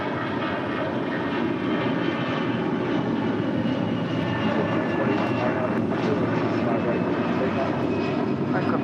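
An American Airlines jet roars down runway 25 right at LAX on its takeoff run, a loud, dense, unbroken engine rumble that holds steady throughout the clip.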